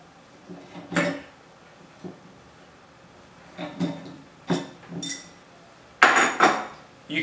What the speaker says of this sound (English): Once it's hand tight, you can use an adjustable wrench to tighten it.